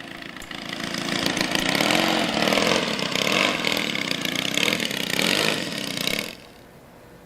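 A model airplane engine taxis on the ground, a buzzy mid-pitched drone that wavers slightly as it moves, fairly near, then drops away abruptly near the end.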